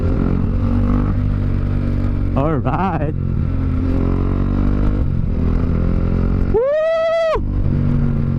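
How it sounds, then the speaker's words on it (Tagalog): A motorcycle engine drones steadily while riding, a loud, close, continuous rumble with a brief voice over it and a short whoop partway through. "Maingay na nga yung motor"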